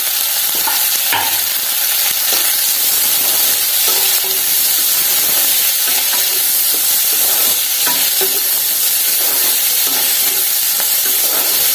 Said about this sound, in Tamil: வெங்காயத்தை போட்டு வதக்கிக்கலாம்